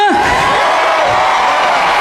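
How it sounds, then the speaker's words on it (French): A large street crowd on rue Saint-Martin in Soissons at a Christmas event, cheering and whooping loudly and continuously, with shouts rising out of the dense roar. "nous allons retrouver la foule venue très nombreuse rue Saint-Martin"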